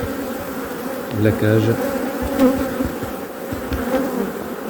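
Honeybees swarm and buzz around a queen cage set among them, a thick, continuous droning hum close by, while a voice briefly speaks over the buzzing.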